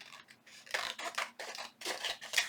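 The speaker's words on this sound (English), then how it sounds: "And then I'm going to trim around the edge," Scissors trim paper around an edge for a junk journal page, giving several close, dry snipping and rustling cuts in short bursts with pauses between them.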